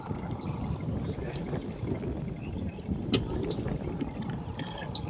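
Light wind over a village river in Bangladesh gives a steady rushing, lapping wash of water and wind buffeting the microphone, continuous and close, with faint clicks but no clear speech.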